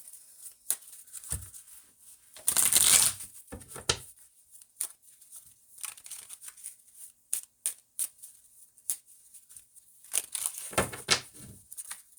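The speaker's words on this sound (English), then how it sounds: "Let me just shuffle these one more time" Quick riffling bursts of a deck of playing cards being shuffled by hand, with one loud, dense shuffle near the start followed by scattered lighter card snaps and taps, close up, with no talking.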